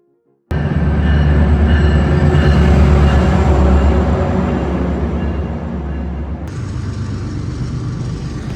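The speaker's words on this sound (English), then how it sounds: "Metro and freight train." A CSX freight train and a metro train roll past a station platform, a loud, steady rumble of wheels on rails that starts abruptly and sustains throughout, with a slight drop in intensity near the end.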